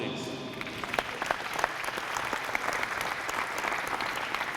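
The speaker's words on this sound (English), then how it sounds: "Give her a round of applause, please." Audience applause at a drug and violence awareness expo, a steady wash of many hands clapping that holds at an even level for several seconds with no talk over it.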